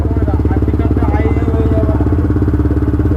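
A Yamaha R15 V3 motorcycle fitted with a BMC performance air filter runs close by with a rhythmic, pulsing idle, while a voice can be heard over the engine.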